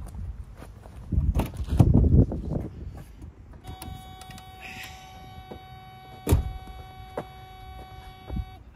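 Ignition switched on in a Mercedes W126 during a crank-no-start check: a few handling knocks and rustles, then a steady electrical hum with a soft whirr as the circuits power up, punctuated by sharp clicks.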